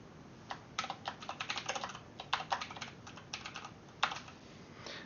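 Text is typed on a computer keyboard in quick, uneven bursts of soft key clicks, close and quiet, with short pauses between runs.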